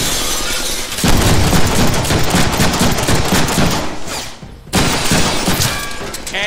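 Rapid, loud gunfire from the Deadpool video game, dense automatic bursts with shattering impacts, broken by a brief pause before the firing resumes at full intensity.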